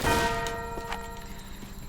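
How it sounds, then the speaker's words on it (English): A metal bell in the Tomb Raider game rings out as it is shot, giving one clear clang that decays slowly with a sustained ringing tone, followed by a few faint taps. "We need to shoot this bell"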